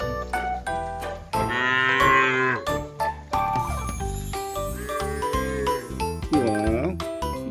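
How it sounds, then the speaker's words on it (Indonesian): A cow moos in a children's animal-collecting video, loud and close, over bright jingling music and repeated musical hits. "Ini ada sapi."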